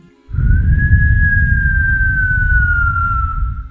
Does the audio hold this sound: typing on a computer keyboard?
no